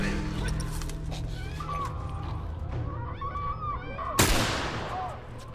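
A single loud gunshot cracks out near the end of a stretch of tense in-game noise from The Last of Us, with tonal background sounds before it and a short tail afterward.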